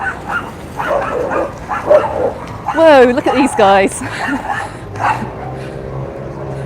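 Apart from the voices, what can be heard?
small dogs barking on a street walk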